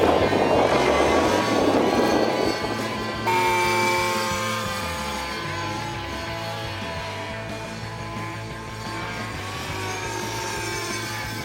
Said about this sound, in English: The new Spectra G has a 20cc 3D Max gas engine and a CNC machine main rotor head for smooth control.